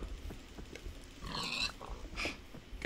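Pig oinking in the video game Minecraft, a few short nasal grunts close by over faint game background noise.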